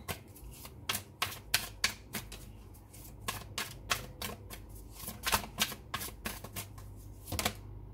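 Tarot cards are drawn and handled from a deck, giving a string of crisp, sharp card snaps and flicks at an irregular, fairly quick pace, close-up over a faint background hum.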